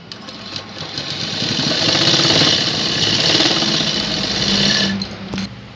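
A sewing machine stitching elastic onto baby pants, a steady whirring mechanical hum with rapid needle rhythm that swells and runs continuously for several seconds before stopping, close and alone.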